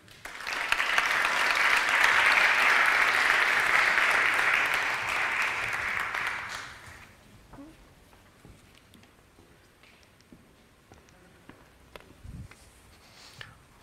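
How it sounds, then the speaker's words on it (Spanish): A Spanish business conference audience applauds for about seven seconds, a dense steady wash of clapping that fades out, followed by quieter room noise with scattered small sounds and faint speech. "Sin más, un aplauso para ellos."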